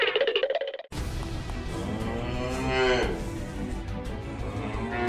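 Cattle mooing loudly and close, a long drawn-out low bellow that swells and rises in pitch, following a brief burst of other sound at the start.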